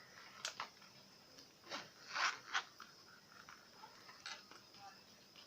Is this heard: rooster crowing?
no